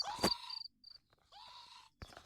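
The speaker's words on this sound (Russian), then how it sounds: "О, сверчка поймал." Cricket chirping close by in rapid high-pitched trills, two bursts with a short gap and a sharp sound between, while young people are out near a pond.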